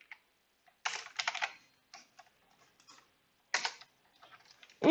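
A few short bursts of computer keyboard typing while Python turtle graphics code is entered, with clusters of keystrokes near the start and middle amid near silence.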